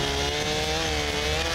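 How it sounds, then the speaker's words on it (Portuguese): A chainsaw runs at a steady high idle during construction of a stable in Alaska, a loud, even buzzing drone that holds without a break and with no voices over it. "Rain, eu não vou passar embaixo de uma motosserra ligada"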